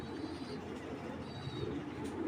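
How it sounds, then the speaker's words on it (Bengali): Soft, low coos of racing pigeons murmur quietly and repeatedly against a faint background hum. "আর এটা হলো জাস্ট আপনাদের জন্য টপ টেনের কবুতর"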